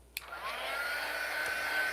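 A hair dryer blows on fresh paint on a small turntable, switching on with a click and then holding a steady, fairly loud whooshing hum with a faint whine.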